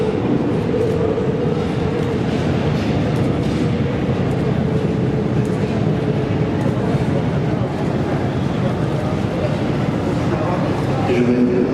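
A Paris metro train, one of the old rolling stock, turns around at Gambetta station on partial service, a steady loud rumble of wheels and motors with squealing tones that continues for the whole stretch while people talk over it.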